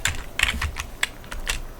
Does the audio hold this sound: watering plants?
no